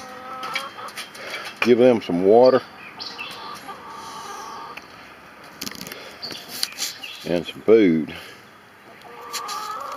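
Chickens and roosters at feeding time, with a couple of loud, close rooster crows and scattered clucking. Someone speaks between the calls.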